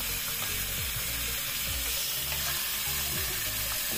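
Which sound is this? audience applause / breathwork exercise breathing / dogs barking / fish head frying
fish head frying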